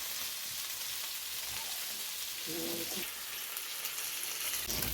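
Fish fries in oil in a pan with a constant soft crackling sizzle, a faint scrape of stirring heard briefly near the middle.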